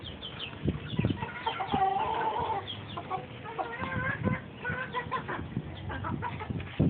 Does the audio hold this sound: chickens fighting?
yes